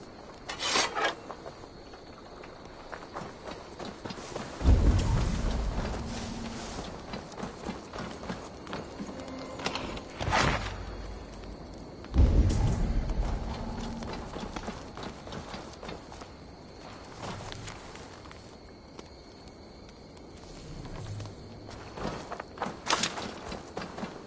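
Hooves clip-clop at a walking pace in the video game Assassin's Creed Valhalla, with rubbing, scraping sounds and a few heavier thuds, moderately close and without any talking.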